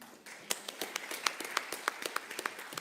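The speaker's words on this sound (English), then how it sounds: "A clap for Sonia" Scattered claps from an audience applauding a speaker at a panel on health systems and the environment, coming as sharp separate hand claps in an uneven rhythm, moderately close and not very loud.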